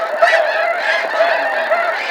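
Snow geese honk in a dense, continuous chorus of loud, overlapping calls from a large flock, with no voices.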